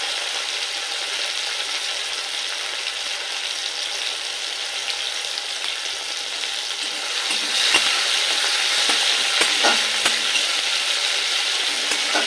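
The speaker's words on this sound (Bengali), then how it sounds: "টমেটোটা নেড়ে নিয়েছি" Small pieces of chopped tomato fry in oil tempered with whole spices and are stirred around the pan. A continuous bright sizzle is broken by a few clicks of the spoon near the end.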